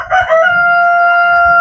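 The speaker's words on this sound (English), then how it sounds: "Only have 1 rooster here, right?" A single farmyard rooster crows loud and close, one long sustained call with a sharp rising start that holds steady to the end.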